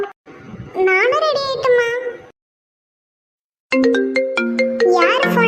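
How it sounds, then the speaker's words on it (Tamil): Melodic phone ringtone for an incoming call, loud and close, a bright tune of repeating tones that plays, pauses for over a second, then returns. A child-like voice sounds over the first phrase. "மகிதான் ஃபோன் பண்றா"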